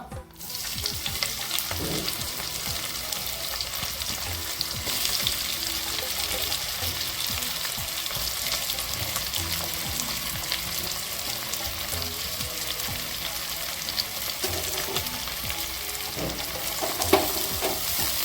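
Onions frying in a pan for Kongu-style mushroom biryani produce a continuous close sizzle with intermittent stirring scrapes, moderately quiet and without talk.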